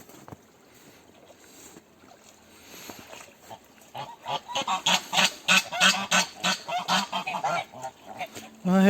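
Geese honk repeatedly and loudly at close range in a farmyard, a rapid series of harsh calls building in volume after a quieter start with scattered rustling.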